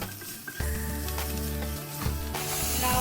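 Sauce seasoned with white pepper and salt sizzling and being stirred in a pan, a steady close frying hiss with faint scraping, alone with no voices.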